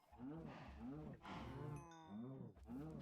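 Cows in the video game Minecraft moo repeatedly in short, rising and falling calls, several in a row at a steady pace, close and fairly quiet, with a brief clicking sound partway through.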